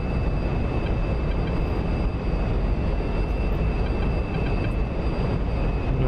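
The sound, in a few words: SR-71 engines at full afterburner in video game DCS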